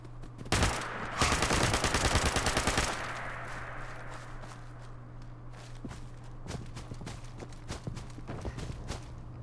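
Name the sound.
submachine gun firing in the video game Fallout 76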